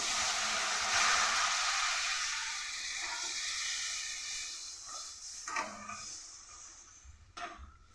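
Water splashes into a pan of oil-fried spice masala, setting off a loud, broad hiss that gradually fades into a lighter, bubbling sizzle with a few short clatters near the end.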